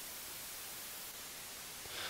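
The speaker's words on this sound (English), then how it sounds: "So there is white noise." White noise mixed with a slightly delayed copy of itself, a steady, dense hiss held at constant level for a couple of seconds with no other sounds.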